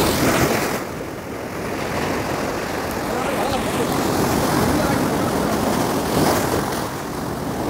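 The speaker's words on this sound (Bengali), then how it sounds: "সেই ঢেউগুলো আজকে আমি তুলে ধরবো আপনাদের কাছে।" Rough sea surf pounds Kuakata beach during Cyclone Mocha, a loud, continuous roar of breaking waves with heavy wind noise and surges rising around the start and end.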